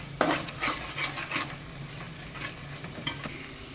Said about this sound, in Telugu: అవన్నీ బాగా మిక్స్ చేస్తూ మసాలా మొత్తం కూడా బాగా మిక్స్ చేస్తున్నాడు.